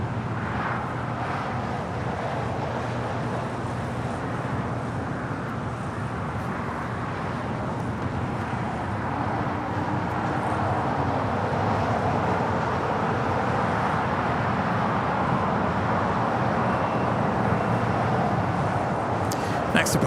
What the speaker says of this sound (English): Next departure is American Airlines Flight 297 heading to Honolulu. It's an A321neo.